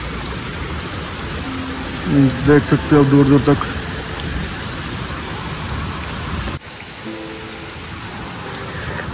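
Heavy rain falls over a village in a dense, constant hiss, while someone speaks briefly over the downpour before the sound drops slightly near the end.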